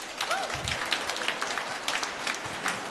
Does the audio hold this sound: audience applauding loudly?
yes